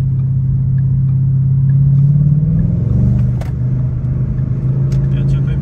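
A big American V8 car engine rumbles deep and loud, idling then swelling in a low throaty revving, with people talking over it.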